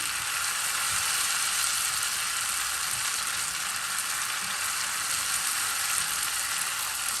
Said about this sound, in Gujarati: આપણે ચમચો સેજ ઉપર લઈ અને કોન્સ્ટન્ટ ધીમે ધીમે બેટરની ધાર કાઢીશું.